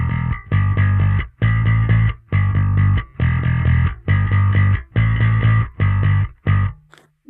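A bass guitar played through distortion pounds out a series of thick, gritty chords in even rhythmic bursts separated by brief gaps, loud and alone.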